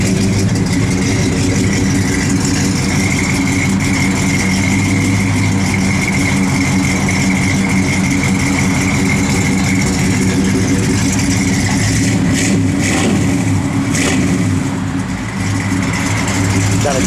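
A 1955 Ford F100 pickup truck engine idles with a steady, loud, close rumble that rises slightly near the end, with no talking over it.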